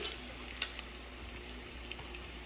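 Onions and spices such as salt, red chilli powder and turmeric frying in a pan, a soft steady sizzle close by with a single sharp clink early on.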